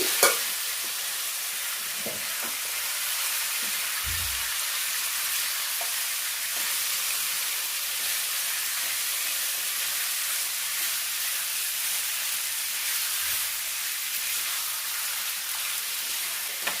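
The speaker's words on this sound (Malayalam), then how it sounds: "ഇപ്പം ചിക്കൻ മുഴുവനും ഈ എണ്ണയിലേക്ക് ഇട്ടിട്ടുണ്ട്. ഇനി ഇത് നമുക്കൊന്ന് ഇളക്കാം." Chicken pieces in hot oil sizzle in a steady, soft, even hiss while being stirred, with a few faint scrapes and knocks from the spoon against the pan and no voices.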